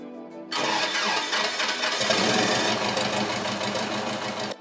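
A video game car engine cranks and catches, then settles into a steady, loud rumbling idle that continues to the end.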